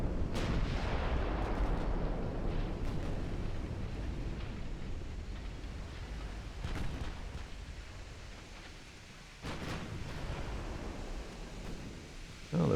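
Warship guns firing in the naval strategy game Ultimate Admiral Dreadnoughts during a 1903 French campaign battle, a deep rumbling boom with long rolling decay and a further distant blast later, no speech.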